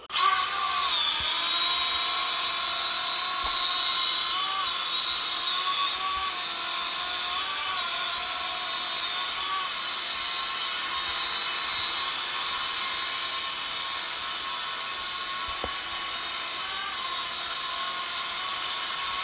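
A small JJRC H37 Elfie foldable quadcopter drone's high-pitched buzzing whine hovers steadily for the whole stretch, close and constant, with slight shifts in pitch as it moves.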